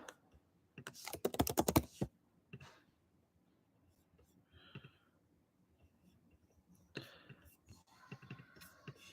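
Fast keyboard typing on a computer while entering a search for downtown Orlando condos, a dense burst of keystrokes near the start, then scattered clicks and soft keys later in a quiet room, with faint whispery sounds and no clear talk.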